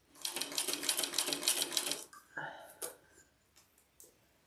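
A sewing machine runs for about two seconds of rapid, even stitching, close and moderately loud, then stops, followed by a few soft clicks and handling noises.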